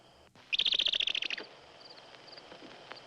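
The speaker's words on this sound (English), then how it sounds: "Bird give warning. Danger." A bird's sharp warning call in a quiet wilderness setting, a rapid burst of bright, shrill chirps lasting about a second, followed by a few faint distant calls against low ambient hiss.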